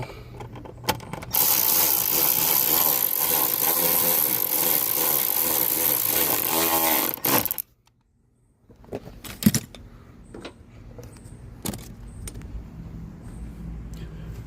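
A ratchet tightening reservoir screws on a GMC Denali during a water pump replacement gives a fast, steady ratcheting whir for several seconds. It stops abruptly, then a few scattered clicks and metallic handling sounds follow.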